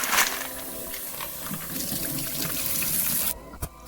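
Mussels rinsed under a running kitchen tap, a steady close rush of water splashing into the sink for a few seconds before it cuts off abruptly near the end.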